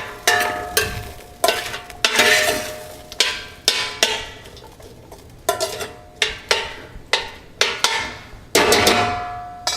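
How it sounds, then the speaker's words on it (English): A spoon stirs salted vegetables cooking in a pot, giving a run of sharp scraping clatters in an irregular rhythm, close and fairly loud, with a faint sizzle between strokes. "So give that a stir."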